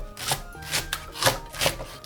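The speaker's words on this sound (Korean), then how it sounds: "대파 한 줄은 반으로 잘라 4-5cm 크기로 잘라주세요." Knife chopping green onion into 4-5 cm pieces on a cutting board, five distinct, evenly spaced cuts landing about every half second, close and clear with no talking.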